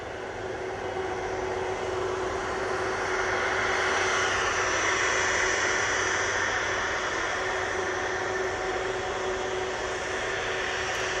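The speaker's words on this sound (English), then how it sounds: "It is the Ryanair 737 MAX 8 coming in from Cork." A Ryanair Boeing 737 MAX 8 arriving from Cork at Manchester Airport, a steady broad jet roar that swells gently toward the middle and holds loud and close throughout, with no voices.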